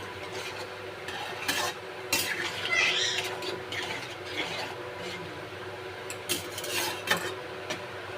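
Soybean and potato curry stirred in a cooking pot, with a spoon scraping and clinking against the sides in irregular bursts over a low, steady background hum.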